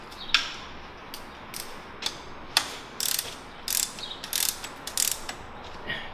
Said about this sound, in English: So you use your quarter inch drive torque wrench and you want to work in a crosshatch pattern.